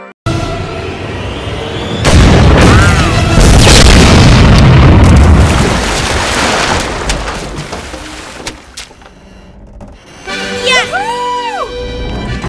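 A kraken monster blowing up in a Lego animation: a loud, sustained booming explosion that swells and rumbles for several seconds, then fades into quieter effects with whooping, swooping tones near the end.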